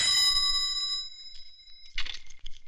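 A telephone rings with a bright, bell-like electronic trill, fading out, followed by a short clatter as if a handset is picked up.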